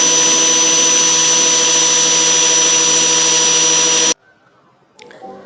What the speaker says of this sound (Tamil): கிரைண்டிங் மிஷினில் வச்சுட்டு தேய்ச்சி எடுத்துக்கிறேன்